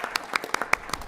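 Applause at a city council meeting for logo contest submitters, a short burst of scattered claps from a small group in a room, uneven and fairly close.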